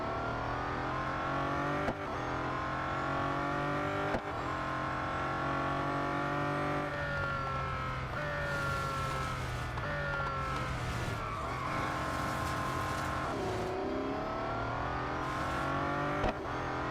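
Race car engine in the mobile racing game Real Racing 3, a steady droning whine that climbs and drops with gear changes for the whole stretch, loud and continuous with no talk.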